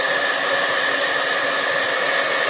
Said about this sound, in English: we're going to use the heat tool to dry this